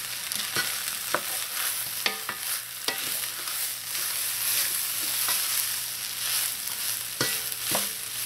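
Washed rice with black pepper being stirred in a pot: soft scraping and stirring scuffs over a faint low sizzle, with a few sharper clinks of the spoon against the pot and no talking.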